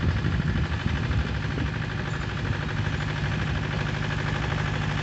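A big tractor engine idles nearby in an even, unbroken low rumble with a slight rhythmic throb, no voices over it.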